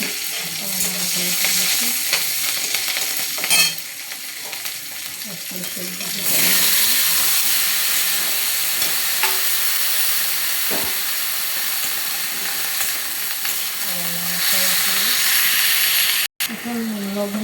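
Dumba meat cooks in a pan with chili and cumin, giving a loud, continuous sizzle and hiss with repeated stirring scrapes. It swells louder partway through, and a voice speaks briefly over the frying.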